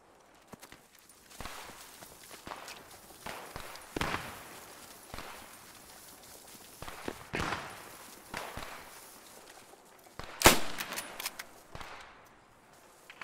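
Scattered gunshots in the WWII shooter Post Scriptum ring out at varying distances, with a loud close crack near the end among quieter distant reports and footstep-like rustles.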